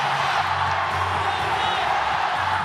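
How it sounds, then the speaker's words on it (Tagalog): A crowd roars at a PBA Philippine Cup semifinal basketball game between Barangay Ginebra and San Miguel, a loud, sustained wash of cheering and noise filling the arena, with voices mixed into it. "comes the crowd back in."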